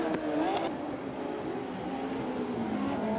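Speedway sidecar bikes race down the grandstand straight on a dirt track, a steady loud engine roar with droning tones and no pauses throughout.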